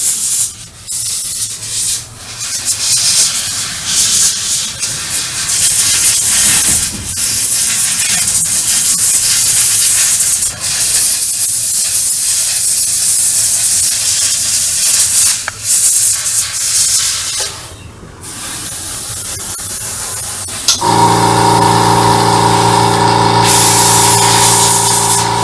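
An airbrush hisses steadily while painting a StuG III Ausf G scale model tank, a close continuous spray with short breaks, ending in a lower humming tone.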